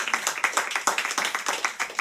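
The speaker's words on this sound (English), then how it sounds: "Round of applause for everybody here." Round of applause from a live audience at a livecast show, steady overlapping claps at a close, even level with faint voices mixed in.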